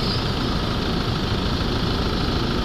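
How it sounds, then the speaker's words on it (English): A Toyota Hilux 2.5 D4D diesel engine idles steadily up close, a continuous low rumble and clatter with no voices. "we're going to start the engine up"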